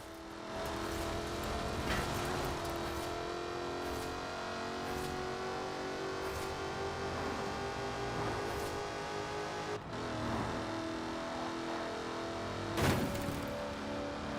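Jaguar Project 7, a limited-run successor to the E-Type celebrating Le Mans wins, driven in Forza Horizon 4 in Great Britain: a steady engine drone holds throughout with a few sharp bumps, one louder thump near the end, no talk.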